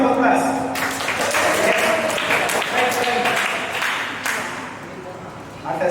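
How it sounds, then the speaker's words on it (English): A round of applause during a problem-solving and ideation workshop: a group claps steadily for several seconds, fairly close and full, then tapers off near the end. "Give me a round of applause."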